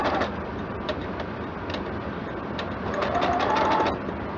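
A sewing machine stitches a fabric face mask in a fast, steady mechanical whir of running needle strokes, close and continuous, rising a little near the end.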